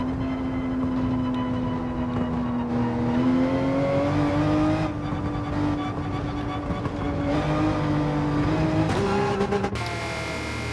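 A Porsche 911 race car in Gran Turismo accelerating hard out of a turn, its engine note climbing steadily and shifting pitch through gears, loud and continuous without pause.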